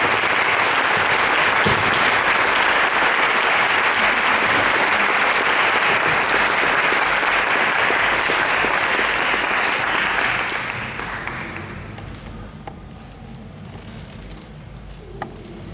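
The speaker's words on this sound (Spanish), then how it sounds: "Un fuerte aplauso también para mi compañera Tania" An audience gives loud, sustained applause for a presenter named Tania, dense clapping for about ten seconds that then fades to a few scattered claps and a quiet room.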